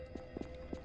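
Footsteps of someone approaching in the Roblox horror game The Mimic Chapter 2, heard as a few soft, muffled thuds spaced irregularly over a faint background hum.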